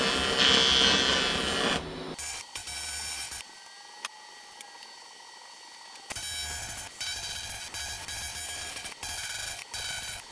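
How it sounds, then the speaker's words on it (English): A jet boat fin is built up with a TIG welder at about 75 amps, a steady buzzing hiss that starts and stops in several bursts with short silent gaps between them, close by. "Now I've got to build up this with the TIG welder."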